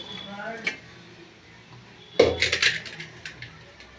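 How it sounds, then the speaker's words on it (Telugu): Upma mixture tipped from a pan onto a metal plate, a burst of clattering metallic scrapes and clinks up close after a quieter stretch with a single earlier clink. "ఇప్పుడైతే ఇలాగా పళ్ళెం తీసుకుని పళ్ళెంలోకి అయితే వేసేస్తున్నానండి"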